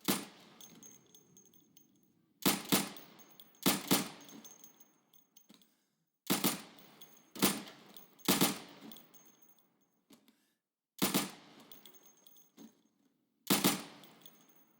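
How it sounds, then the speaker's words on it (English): Sidearm fire at pop-up targets in the video game Insurgency: sharp, loud single pistol shots, sometimes in quick pairs, spaced by short pauses with a faint metallic ring after each. "So you can shoot accurately over 20 feet with your sidearm."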